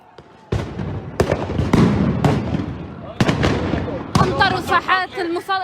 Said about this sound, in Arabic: في داخل المصلى عم يطلقوا قنابل الصوت داخل مصلى القبلة